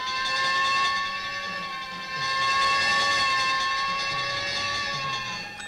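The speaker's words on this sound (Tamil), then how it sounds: "ஃபயர் இன்ஜின் போற சத்தம் கேட்டது" A fire engine passes, its siren holding sustained wailing tones that swell and ease slightly, loud and fairly close throughout.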